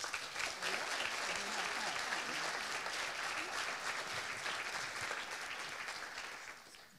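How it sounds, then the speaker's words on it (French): Warm, sustained applause from an audience fills an awards ceremony for the Observatoire de l'Innovation Commerciale, steady clapping that tapers off near the end. "Un grand merci à eux et on peut les applaudir."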